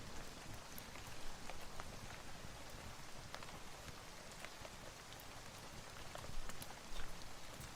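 Steady rain falls outside, a dense, even patter of drops on surfaces heard alone and fairly quiet throughout, with scattered sharper drips standing out.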